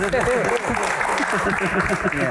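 Crowd at a Q&A panel applauds the panelists, a broad clapping wash running underneath prominent voices talking and calling out over it.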